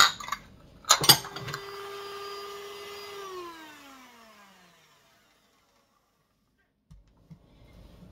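An electric hand mixer beats eggs and sugar for a sponge cake batter. It starts with a few clattering knocks, then holds a steady motor whine that winds down in pitch and stops, leaving silence before faint bumps.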